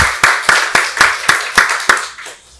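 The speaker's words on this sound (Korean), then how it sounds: "박수로 하나님께 영광 돌리겠습니다." Church congregation clapping together at a Sunday worship service, a steady run of about eight sharp, loud claps in even rhythm, fading out at the end.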